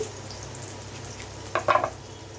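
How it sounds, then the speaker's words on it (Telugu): Chopped onions and green chillies fry in hot oil for a tempering, giving a quiet, steady sizzle with a short burst of sharper crackling near the end. "కట్ చేసి పెట్టుకున్న ఉల్లిపాయ ముక్కలు అయితే వేసుకున్నానండి దీనిలోకి పచ్చిమిర్చి చిలుకలు కూడా నాలుగు వేసుకొని ఈ పోపుని అయితే ఫ్రై చేసుకోవాలి"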